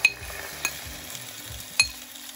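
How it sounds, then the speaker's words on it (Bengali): Chicken fries in a little sesame oil under a soft sizzle while a spoon stirs and taps the pan, giving a few sharp metallic clinks among gentler scrapes. "এখন আমি চামচ দিয়ে মেরে দিয়ে চিকেনটা ভেজে নিচ্ছি"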